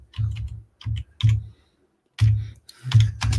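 Bursts of typing on a computer keyboard, near and moderately loud, come in short clustered runs with brief pauses between them and no talking.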